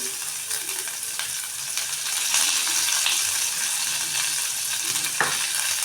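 Onion, curry leaves and mustard seeds frying in a pan for a horse gram gojju, with a steady crackling sizzle that grows louder midway and a few scraping stirs.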